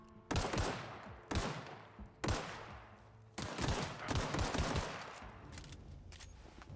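A poor-condition weapon fires in the video game The Outer Worlds, four or five sharp loud bursts of shots, the last a longer rattling volley.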